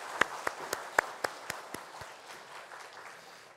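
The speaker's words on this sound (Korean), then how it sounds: "하나님 앞에 영광의 박수 올려드리겠습니다." A church congregation at a Sunday worship service claps in a steady, evenly spaced beat, about eight sharp unison claps that fade into softer scattered clapping, moderately distant in a large room.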